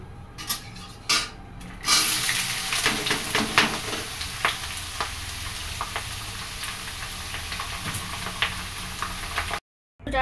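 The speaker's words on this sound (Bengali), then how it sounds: "আলু ভাজা চাপাবো। কড়াইতে তেল দিয়ে দিয়েছি" Steady sizzling of potatoes frying in oil in a wok, with metal clinks and scrapes of stirring over it and a brief dropout near the end; no talking.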